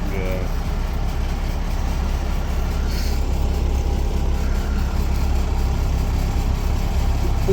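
A MAN truck engine fitted in a GAZ 52 truck idles with a steady, low, even rumble close by, while occasional faint higher noises drift in over the continuous drone.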